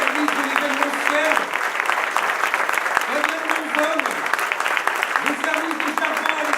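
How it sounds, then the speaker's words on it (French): Audience applause at the opening ceremony of the 48th Exporose rose show in Grasse, steady clapping from a crowd filling the whole stretch, with a voice speaking over it and a rising and falling tone running under the sound. "je voudrais qu'on puisse te remercier avec une salle d'applaudissements"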